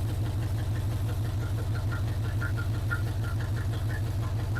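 A 1980 Chevrolet C/10 Cheyenne square-body pickup engine runs steadily at idle, a close, continuous low rumble with an even pulsing beat and faint ticking above it.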